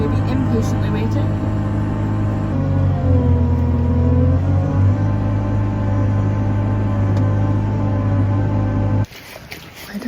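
A car engine revs and holds at a steady high pitch, the tone rising and dipping slightly, loud and close, until it suddenly cuts off.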